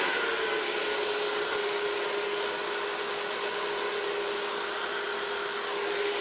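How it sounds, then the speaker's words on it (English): A hair dryer blows steadily and loudly throughout while hair is dried backward with a Denman brush, a continuous close whooshing roar with a faint high whine and no talking. "So I'm going to blow dry his hair back."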